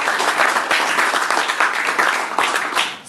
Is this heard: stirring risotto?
no